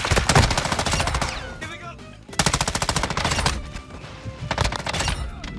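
Modern Warfare 2 M13 rifle firing in a video game: loud, close bursts of rapid automatic shots with short gaps between strings, and a voice briefly heard alongside.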